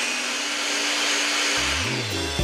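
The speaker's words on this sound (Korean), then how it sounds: "몸에 좋은 모든 성분들을 믹서기에 갈아주겠습니다" A kitchen blender purees a hot carrot soup seasoned with curry. Its loud, steady whirring motor runs, then shuts off and spins down with a falling hum.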